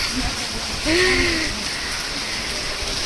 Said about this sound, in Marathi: तर बघू शकताय तुम्ही खूप जास्त पाऊस चालू आहे